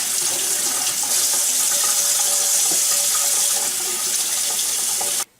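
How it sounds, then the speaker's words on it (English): Steady rushing of cold tap water over raw chicken in a sink, loud and continuous for several seconds before cutting off abruptly at the end. "take your chicken and just give it a good rinse under some cold water"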